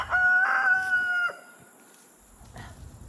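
A backyard rooster crows loudly and close, one long drawn-out call, followed by quieter clucking and farmyard noise from chickens in a garden.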